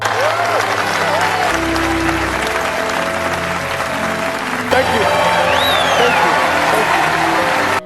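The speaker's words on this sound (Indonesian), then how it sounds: "Ucapan itu disambut keheningan penuh takjim, lalu tepuk tangan panjang." Long applause follows a speech in the film Pad Man. The clapping is sustained and is mixed with background music and voices, and it holds steady to the end.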